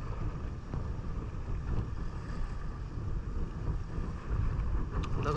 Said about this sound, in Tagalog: Lakas ng hangin kasi.